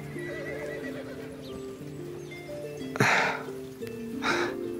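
A horse neighs in a long whinny, with hooves clip-clopping steadily beneath it and two sharp snorting bursts near the end; the animal sounds close and fairly loud, with no talk.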